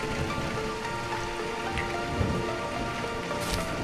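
Steady rain pours down on a village during a storm, with a dense, continuous patter of drops striking surfaces and a soft, low rumble beneath.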